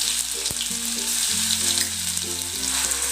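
A paste of garlic, ginger, green chilli and fresh coriander sizzles steadily in hot oil with cumin, the frying hiss broad and continuous while a utensil clinks faintly once near the start.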